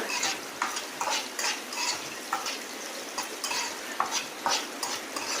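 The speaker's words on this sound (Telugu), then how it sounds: "అల్లము పచ్చిమిరపకాయలు అన్నీ ఫ్రై అయిపోవాలండి" Green chillies and chopped ginger fry in a pan, hissing steadily while a spoon scrapes and stirs in repeated strokes, close and without talk.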